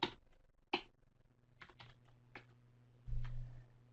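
Meeting details are typed on a computer keyboard: quiet, close, irregular key clicks, single taps and short bursts with pauses between them and no talking.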